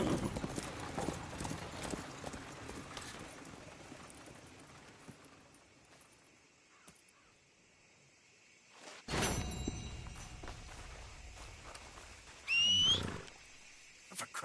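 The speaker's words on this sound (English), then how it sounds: "Damn that horse." A horse in a PS4 video game clip-clops with hooves against the ground, fading to near quiet midway before louder bursts of game noise and a sharp rising animal cry.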